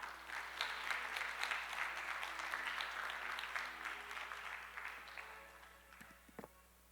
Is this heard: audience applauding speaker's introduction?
yes